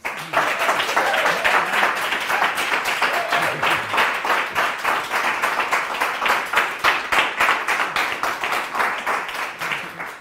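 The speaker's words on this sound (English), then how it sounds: "give Cecilia a round of applause" A sustained round of audience applause at a jazz performance of vibes and piano, dense and even, with rhythmic clapping pulses rising and falling steadily at close range for about ten seconds.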